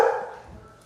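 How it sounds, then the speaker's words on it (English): A single short dog bark, loud and close, followed by a fading tail in an indoor room. "I'm gonna let the dog finish the barking."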